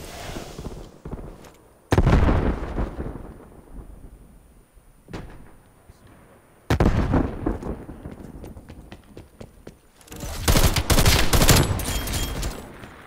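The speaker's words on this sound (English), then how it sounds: "I just keep shooting him through the wall" Video game gunfire while shooting zombies, several loud irregular bursts of shots and impacts separated by quieter stretches, fairly close and harsh.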